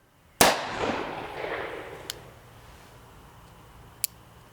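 An Uberti 1862 .36 caliber Police percussion revolver fires a single sharp, loud shot that rings out and decays over about a second, followed by two faint mechanical clicks.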